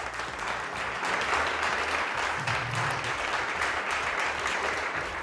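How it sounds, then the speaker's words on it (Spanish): Party members of the Govern, CiU, Esquerra and ICV applaud Artur Mas together, a dense, steady roar of clapping that holds loud and even throughout, with a faint low murmur beneath. "Todos los partidos pro consulta unidos aplaudiendo a Mas como si fuera el líder de todos"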